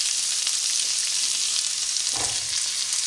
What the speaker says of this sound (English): Now we're going to saute